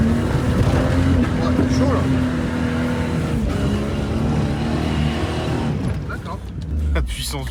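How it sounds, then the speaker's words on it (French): A powerful off-road Toyota 4Runner engine revs and roars continuously up close, rising and falling in pitch, with a few sharper bursts toward the end. "ce moteur rageur et explosif"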